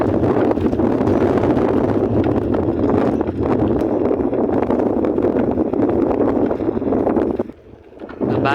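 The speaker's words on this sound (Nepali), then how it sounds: "एकदम चिसो हावा आइरहेछ" Cold wind blowing at Jumle Khola on a paved road during a bicycle ride. Loud, continuous rushing buffets the microphone and eases briefly near the end.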